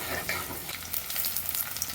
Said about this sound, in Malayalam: കടുകിട്ട് പൊട്ടി ഉള്ളി ഇടാൻ പോകുകയാണ്